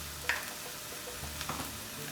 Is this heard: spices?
yes